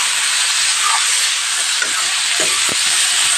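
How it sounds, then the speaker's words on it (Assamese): Chopped tomatoes and spices fry in a pan with a constant loud hiss and sizzle, broken by a few small pops and crackles, and nobody speaks. "অকণমান গলি যোৱালৈকে ভাজিম।"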